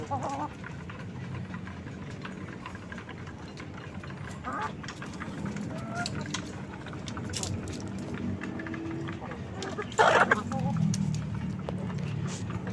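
Backyard chickens cluck and murmur near and far beneath a person speaking, with scattered short calls and a louder brief burst of cackling toward the end.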